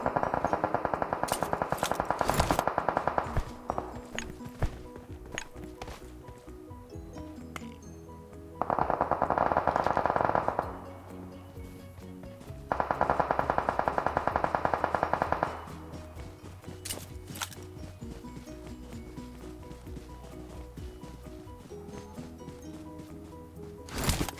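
Gunfire from people shooting, rendered as loud rapid bursts of automatic fire in several sustained volleys with sharper single shots between, set against a busy, echoing background.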